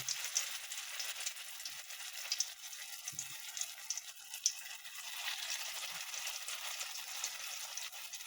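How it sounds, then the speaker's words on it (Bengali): Vegetable koftas made with soybean, rajma and chickpea fry in hot oil, giving a steady, fairly faint broadband sizzle that runs unbroken through the whole stretch with only small bubbling flickers and no talking. "তেলটা গরম হয়ে গেছে। এবার আমি কোপ্তাগুলো ভেজে নেব।"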